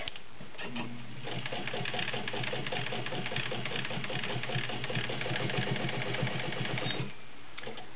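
A vintage Fleetwood zigzag sewing machine stitches through five layers of denim, giving a fast, steady mechanical whirring chatter that starts after about a second and runs evenly for several seconds before stopping.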